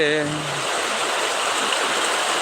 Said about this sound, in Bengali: দেখেন বৃষ্টির পানিগুলা গাছের পাতায় কীভাবে ফোটা ফোটা পড়তেছে